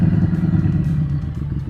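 Motorcycle engine running up close as the rider shifts from second to third gear, a rough throbbing mid-pitched drone with slight dips and rises in level, heard alone.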